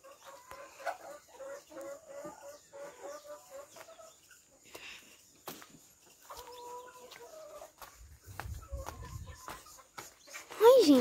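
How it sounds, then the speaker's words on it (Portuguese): Chickens cluck and a rooster calls in a series of short, patterned cries, with scattered clucks and rustling noises in between. "agora eu vou mostrar algumas galinhas soltas pra vocês verem"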